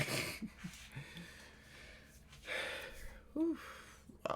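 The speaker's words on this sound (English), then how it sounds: "why I'm breathing so heavily?" Heavy, audible breathing from a gamer just after a Dead by Daylight session, with gasping, wheezy breaths and snorts scattered through the clip, close to the microphone.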